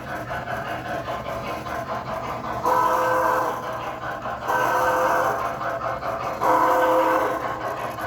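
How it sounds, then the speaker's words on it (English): An American Flyer Northern model train pulling 20 cars hums steadily along a track, its rolling whir swelling louder in three passes as it circles nearby, with no talking. "Ah, here comes the train."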